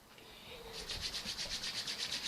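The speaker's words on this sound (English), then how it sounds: "I rub my hands together" Two hands rubbed briskly together close up during a breathing and core exercise session, a steady rhythmic swishing friction that repeats about ten times and grows louder after a quiet start.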